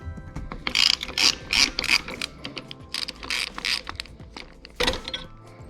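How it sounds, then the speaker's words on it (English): A screwdriver unscrews a screw on a bicycle frame during a flat-tire repair, giving a series of close, crisp ratcheting clicks in uneven bursts with short pauses. "Just take a screwdriver and we're going to unscrew this and also the other one on the corresponding side."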